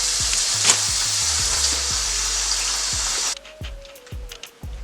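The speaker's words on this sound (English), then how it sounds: "I usually start off stir frying with the mushrooms and letting these cook longer than any other veggie" Mushrooms stir frying in a pan for a vegan dish, a loud steady sizzle with repeated utensil knocks and scrapes, the sizzle cutting out near the end while sparse clinks continue.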